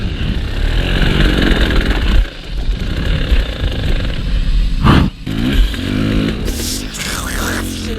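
An enduro dirt bike runs rough during a race, its engine revving loud and ragged close by, with brief dips in throttle and rattling clatter over rocky ground.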